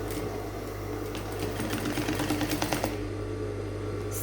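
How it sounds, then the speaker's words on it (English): Sewing machine stitching a bust caged bustier, a steady close whirring run of needle strokes that grows denser and louder partway through, then drops to a quieter hum near the end. "I'm going to continue sewing to this place."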